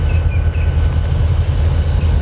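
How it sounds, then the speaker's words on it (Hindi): A train at a railway station on a rainy day, heard as a steady, loud low rumble with a faint high whine over it, continuous for the whole stretch with no voices. "ये वही है रेल जो पहले खड़ी हो गई थी"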